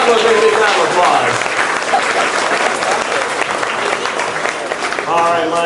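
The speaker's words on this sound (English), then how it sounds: "Let's give Michael a great big round of applause." Theme-park audience applauds a guest volunteer at a studio backlot show, loud dense clapping that fills the space steadily from start to finish, with voices and cheers mixed underneath.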